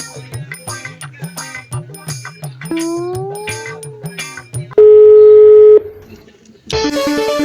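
Electronic telephone tones from a call being placed: a steady held beep, then a burst of busier tone, following a stretch of rhythmic music-like sound with no talking.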